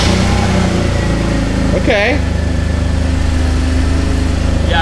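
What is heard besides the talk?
Mercedes car engine running after spark plug swap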